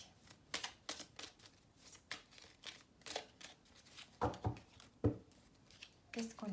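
Oracle cards being shuffled by hand in a series of quick riffling, flicking bursts with short pauses between them, close and fairly quiet, no talking.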